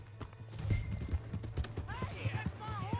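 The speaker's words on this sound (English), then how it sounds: "Hey, that's my horse!" Horse hooves clip-clop in the Red Dead Redemption video game, a quick uneven run of thuds. A voice talks over the hoofbeats, and a brief whinny-like call rises near the end.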